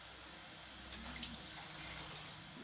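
Water poured into a bowl of okpa flour batter while it is being mixed, a soft continuous splashing trickle starting about a second in and running steadily, faint and close, with no talking.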